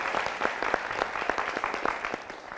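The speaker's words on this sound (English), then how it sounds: "A round of applause again." Studio audience at a Nigerian talk show on poverty and the right to food gives a round of applause, crisp individual claps blending into moderate, fairly close clapping throughout.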